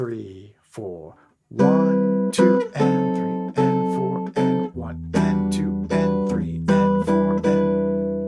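Jazz guitar plays the third bar of the bridge of a tune, a series of clean sustained drop 2 chord stabs in a syncopated rhythm, close up, with a voice counting along at the start and over the chords.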